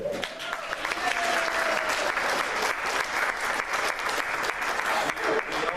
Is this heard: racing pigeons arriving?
no